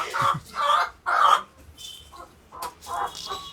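Hens in a backyard chicken coop cluck in several close, loud bursts with short pauses between them, and softer fowl calls follow near the end.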